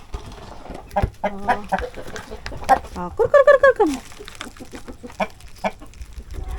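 Native chickens cluck close by in short bursts, one giving a longer rising squawk midway, while a person briefly calls to them.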